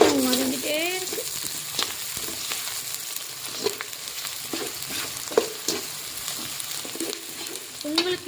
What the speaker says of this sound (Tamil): ஆனியன் வதங்கிட்டே இருக்கு